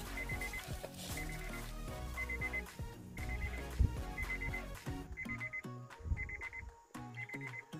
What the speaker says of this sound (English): Guys, I'm really sorry about that beeping.